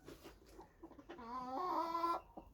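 A broody Silkie hen makes low, grumbling clucks that rise into a drawn-out, complaining vocal call, close by in a quiet setting.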